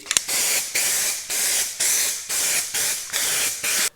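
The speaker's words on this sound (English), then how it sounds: "I'm going to spray it with just a little bit of primer to keep it from rusting." Short bursts of spray primer hiss onto a Datsun B210 car body under restoration, about seven evenly spaced blasts, each roughly a third of a second, close and steady with brief gaps between.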